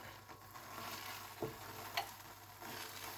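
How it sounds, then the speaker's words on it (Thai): Rice frying in a pan with coconut milk gives a faint, steady sizzle throughout, broken by a couple of soft stirring scrapes, with no voices. "ทอดข้าวใส่กะทิขึ้อยากข้าวต้ม"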